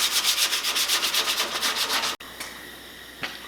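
Someone hand-sands a handmade wooden bow handle in quick, rhythmic back-and-forth rubbing strokes, close and steady, then stops abruptly, leaving a quiet room with a couple of faint scrapes.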